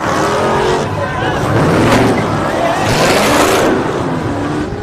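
A Dodge Charger's 6.4-liter Hemi V8 roars under hard acceleration on a highway during a police chase, a loud, sustained engine drone rising and falling in pitch for several seconds with some road and wind noise.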